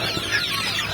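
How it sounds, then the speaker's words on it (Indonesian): KUB chickens cluck and squabble over alternative homemade feed, a steady close chorus of short clucks crowding together for a second. "Ini ayam KUB ya,"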